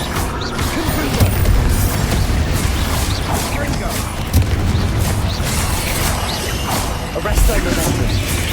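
Confringo fire spell blasts in the Hogwarts Legacy video game, loud booming impacts and crashes layered over continuous rumbling combat noise, with a voice speaking over them.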